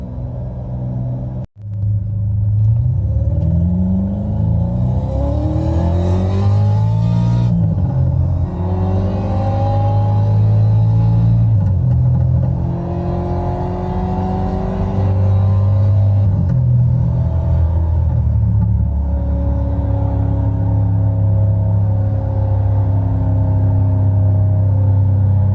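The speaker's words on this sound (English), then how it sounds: "Don't like that Nissan 370Z GT V8 sound, you can just turn it off." An app-simulated Nissan 370Z GT V8 engine note plays inside a Toyota Camry: a loud, deep rumble with repeated rising and falling revs over a steady low drone, close and continuous without speech.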